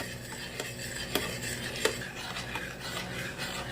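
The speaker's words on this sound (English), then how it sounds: "All we're going to do is stir in a slurry." A flour slurry is stirred into a pan sauce for an Asian-inspired roast pork shoulder, with a utensil scraping and knocking against the pan in a steady, close stirring rhythm and a couple of sharper taps.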